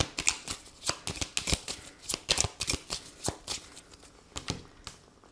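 Lenormand oracle cards being shuffled and cut, a quick run of crisp papery riffles and snaps with a steady flicking rhythm, close and clear with no talk.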